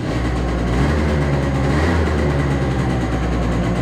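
A Yamaha Aerox scooter engine idles steadily up close, a constant low rumble with a busy mechanical chatter and no pauses.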